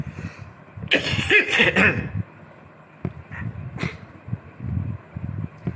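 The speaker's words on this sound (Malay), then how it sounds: "Batuk pula." A few sharp, close coughs in a quick cluster, then a lone cough a moment later, over a low background murmur.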